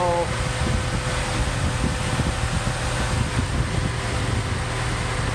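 A Zamboni ice resurfacer with an alternator problem idles with its engine running, giving a steady, unbroken mechanical hum and whir that stays at one level throughout.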